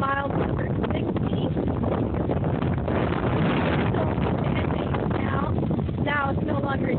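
Strong wind buffets the microphone on a canal trail beside the Scano Canal, a loud continuous roar with gusty rushing and no talking.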